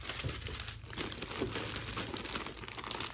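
Paper stuffing from an Air Force 1 sneaker box crinkles and rustles steadily at close range, a continuous dry crackle with no speech over it.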